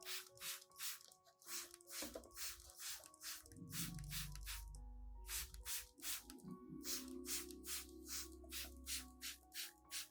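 A series of quick, sharp spritzes from a spray bottle onto plant leaves repeat in bursts, with soft wet drips and rubbing sounds between them, close by.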